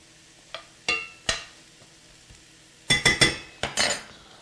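Carrots being stirred in a pan for shepherd's pie: a few sharp utensil scrapes and clinks against the pan, then a quick cluster of knocks, with a faint sizzle beneath and no talking.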